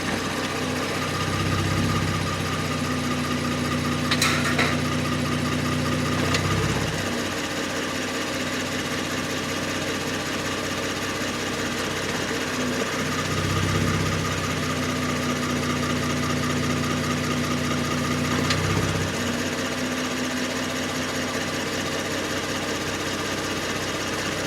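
A 2019 Kia Stinger engine idles steadily while the transmission is run through its gears, a low continuous hum with brief shifts in tone and a few soft clunks as each gear engages.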